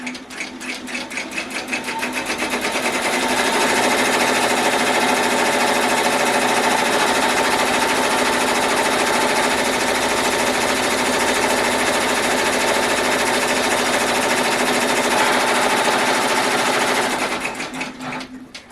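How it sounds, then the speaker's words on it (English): An embroidery machine stitches an outline on white fabric in a fast, steady mechanical chatter that runs unbroken for most of the time, ramping up at the start and slowing to a stop at the end, loud and near. "It's going to stitch just another outline around this again, and that'll give me my line to cut on."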